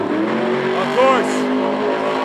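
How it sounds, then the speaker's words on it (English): Batman monster truck spinning donuts at the Monster Jam World Finals, its engine roaring and revving steadily over a loud arena crowd, with an announcer talking throughout. "Great start with the awesome Bat Donuts"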